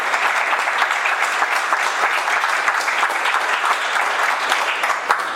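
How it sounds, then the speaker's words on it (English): Conference audience applauding a speaker at a developer community talk on mental health, dense continuous clapping from a sizeable crowd at even loudness throughout. "if you applaud me, I'll like that"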